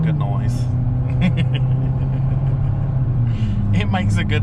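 A car engine runs steadily at a drive-thru, a loud continuous low rumble with slight rises in pitch, close by, and faint background noises over it.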